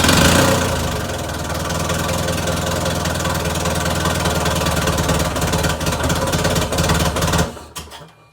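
A Mazda Miata engine runs steadily at a loud, rough idle for several seconds nearby, then cuts out abruptly near the end.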